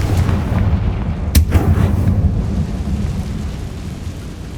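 A Confringo spell explodes in Hogwarts Legacy, a single sharp crack followed by a brief rumble over a continuous low game ambience.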